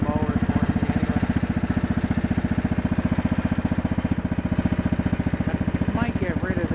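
A Yard-King bagger lawn mower engine idles after a cold start, giving a close, steady, fast pulsing putter with a rough, clattery edge throughout.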